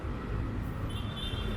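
Traffic rumbles steadily along Taft Avenue in Manila, a low continuous road drone of cars and buses, moderately quiet, with no talk.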